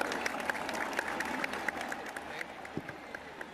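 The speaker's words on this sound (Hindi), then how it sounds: "गवर्नर साहब के लिए एक और दफा बहुत जोरदार तालियां।" Applause for the governor at a Karachi Kings launch concert, dense clapping from a crowd heard somewhat distantly and fairly quietly, continuous across the moment with a little crowd noise.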